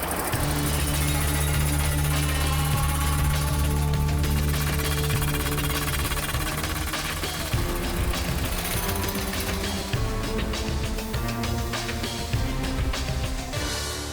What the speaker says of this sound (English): we're drilling rebar and pipes and anything else they buried in there